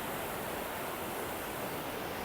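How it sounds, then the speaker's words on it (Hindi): Fast canal water rushing under strong pressure, a steady broad roar that fills the whole stretch, close and continuous with no talk over it. "ज़बरदस्त किस्म का पानी का प्रेशर है"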